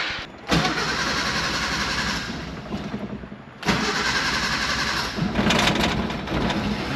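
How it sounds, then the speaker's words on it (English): A mini truck engine cranks, dies briefly, then catches and settles into a steady, fairly loud small-engine idle with slight revving. "Let's get the old mini truck fired up here."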